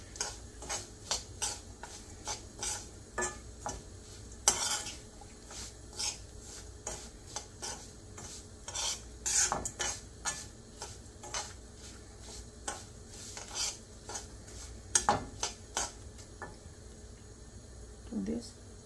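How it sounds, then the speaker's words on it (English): Rava semolina roasting in a pan while a spoon stirs it, giving a steady run of scraping strokes with a soft dry sizzle beneath, close up, as a person talks over it. "This one at least we have to roast it for 5 minutes."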